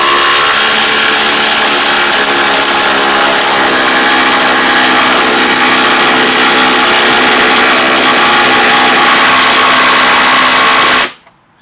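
A Makita DTD171 impact driver sinks lag screws into an 8.5mm pilot hole, giving one long loud continuous buzzing hammer at a steady pitch that stops abruptly at the end.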